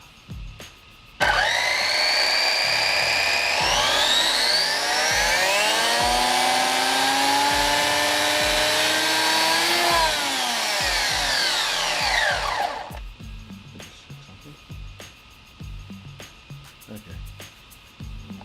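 Traxxas Slash RC car motor spinning up during a break-in run: a loud electric whine rising steadily in pitch, holding high for several seconds, then winding down, with quiet background noise before and after.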